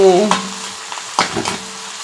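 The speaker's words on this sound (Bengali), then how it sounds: "আমি এখানে উচ্ছে ভাজা করছি" Bitter gourd slices frying in a pan, a steady close sizzle with two sharp bursts of stirring scrapes, no voices.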